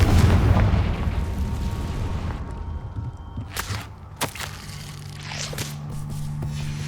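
Fire blasts from the Confringo spell in the video game Hogwarts Legacy, a heavy rumbling boom at the start followed by a handful of sharp cracking bursts and pops, loud and up close.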